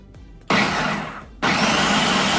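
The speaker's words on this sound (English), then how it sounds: "Now we're just gonna process our mixture until it's smooth." A food processor loudly blends cannellini beans, lemon juice, garlic, garlic powder, dried dill and salt, running in two long, steady whirring stretches split by a brief dip, with no talking.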